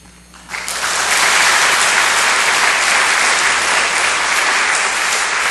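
Church congregation at a Sunday worship service breaking into applause to welcome the pastor, a sudden, loud, sustained wash of clapping from a large crowd with no talking over it.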